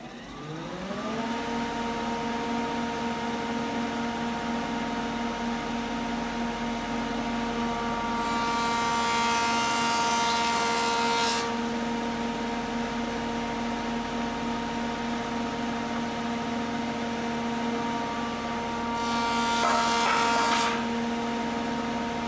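A thickness planer spins up to a steady loud hum while planing wooden boards for a serving tray, with two harsher bursts as boards feed through the cutter, one lasting about three seconds and a shorter one later.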